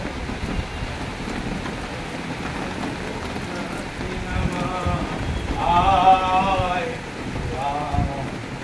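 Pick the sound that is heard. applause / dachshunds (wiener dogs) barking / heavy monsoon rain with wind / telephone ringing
heavy monsoon rain with wind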